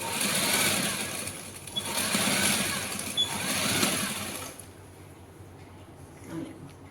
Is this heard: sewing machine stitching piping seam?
yes